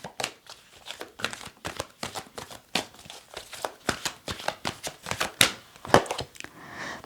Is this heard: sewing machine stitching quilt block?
no